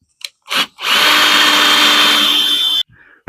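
Power drill driving screws into uneven pallet wood during a camper bed build, with two short bursts followed by one long, loud, steady whine close by before it cuts off.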